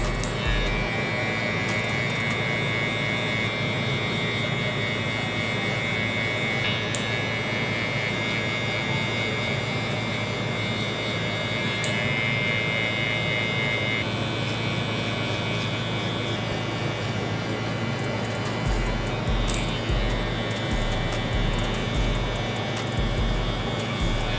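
Electric hair clippers buzz steadily during a fade haircut, a close, continuous hum running throughout with slight shifts in pitch as the blade moves through the hair.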